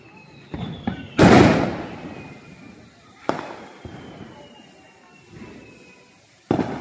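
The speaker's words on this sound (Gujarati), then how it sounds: "તડતડિયું મૂક્યું, તડતડિયું છે ને." A Diwali firecracker goes off in a residential society with a loud burst of crackling, followed by several separate sharp pops and bangs spaced apart, with faint voices in between.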